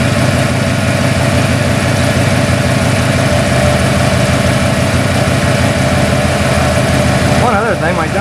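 A 1994 Ford F150 engine idling close up, a loud steady rumbling drone with a voice briefly speaking at the end.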